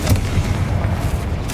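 A Confringo blasting spell explosion in Hogwarts Legacy, a deep booming blast with a rumbling low-end tail and a sharper crack at the end, loud and close.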